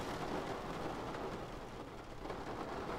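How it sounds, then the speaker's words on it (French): Steady December rain hisses and patters continuously on a car driving from Brest to Nantes, beneath a low road rumble, with no voices. "Je roule de Brest à Nantes sous la pluie."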